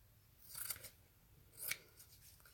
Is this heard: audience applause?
no